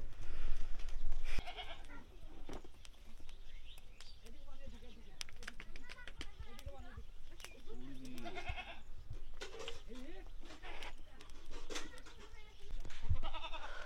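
Young goat kids tethered with cattle in a winter village at Char Rajapur bleat in several short, thin cries, heard close by under ongoing talk.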